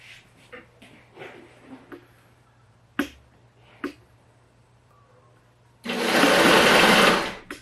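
A 1930s electric sewing machine starts running on its own once plugged in, a loud steady whirring hum lasting under two seconds after several faint clicks and knocks nearby.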